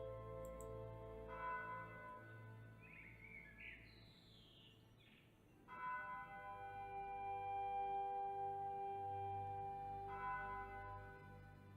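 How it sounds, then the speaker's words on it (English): Distant church bells ring out the hour in The Lion's Song, a game, with sustained tolling tones that fade and then return against faint birdsong in a quiet ambient scene. "Distant church bells chime the hour."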